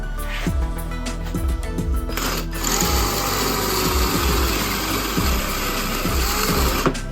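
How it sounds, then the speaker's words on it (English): An electric drill bores through a go-kart fender mount, a steady high-pitched motor whine running the whole time with a brief break partway through, close and loud over workshop clatter. "Drill through that."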